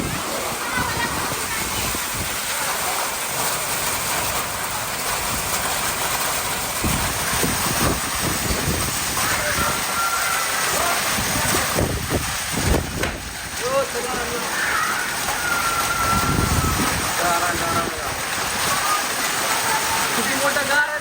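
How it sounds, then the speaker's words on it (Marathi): Heavy hail and rain batter down during a storm, a steady dense roar with sharper bursts of impacts on sheet roofing, continuous throughout, with people talking underneath. "गारा पडतायत का रे?"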